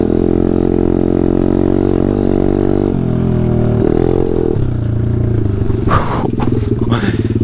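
A Taotao DB17 125 dirt bike with an upgraded carburetor rides on trails, its loud close engine droning and shifting pitch as the throttle changes, with rattling and scraping toward the end.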